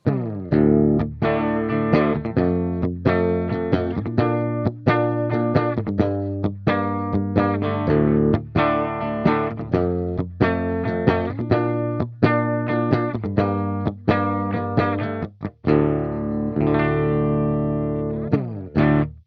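An electric guitar plays a chugging riff through a thick, fuzzy distortion from a DemonFX Fat Mouse fuzz/distortion pedal, with notes ringing and sustaining between quick strums; no voices.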